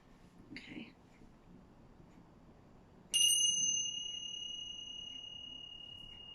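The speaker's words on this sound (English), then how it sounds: "I'm just going to get my chimes" Chimes struck once, a bright metallic ring that starts suddenly and sustains as a clear, slowly fading tone, preceded by a soft whispery voice and light rustling.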